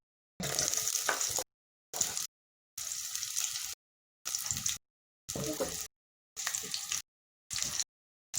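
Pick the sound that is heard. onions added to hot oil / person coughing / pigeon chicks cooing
onions added to hot oil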